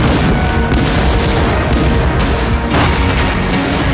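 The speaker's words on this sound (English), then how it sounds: "Man the cannons!" Booming cannon fire in Assassin's Creed IV: Black Flag rolls continuously, with repeated heavy blasts and crashes layered over a dense, loud battle din, no talking.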